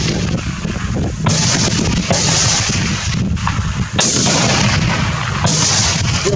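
A new rifle fires during pre-season shooting, with about four sharp, loud, close reports spaced roughly a second apart, each followed by a brief ringing decay, and no talking.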